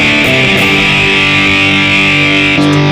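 Electric guitar played through a delay effect on a Mooer Prime P1 multi-effects unit, a steady distorted chord sustaining with repeating echoes, loud and alone with no talk.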